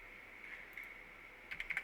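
Keys on a computer keyboard are pressed during Excel 2016 work, with a few soft taps at first and then a quick cluster of sharper clicks near the end over a steady electronic hum.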